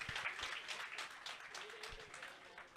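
Audience applause for a 30-member team at a Telugu jayanti celebration and award ceremony, a steady, moderately distant wash of many hands clapping that holds for the whole stretch.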